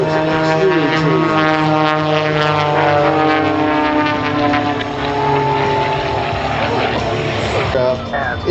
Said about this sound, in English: by Jack Knutson in the extra 300.